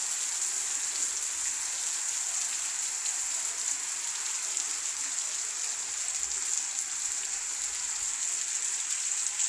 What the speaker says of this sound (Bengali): বৃষ্টি অনেক ভালো লাগে আসলে বৃষ্টি।